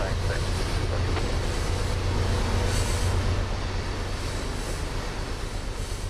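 A simulated freight train in Trainz starts out with a steady low rumble and hum throughout, while someone talks over it.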